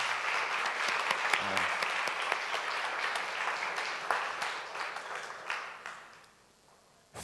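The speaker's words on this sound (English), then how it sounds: "Give them a good round of applause." Applause from a conference audience at a meetings and events industry presentation, a steady dense clapping that keeps going for several seconds before tapering off near the end.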